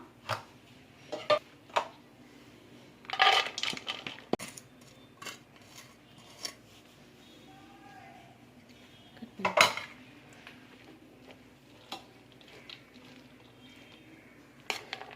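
Freshly made boondi tumbles into a bowl with scattered clinks and scrapes of utensils against the dish, bursts of clatter separated by quiet pauses.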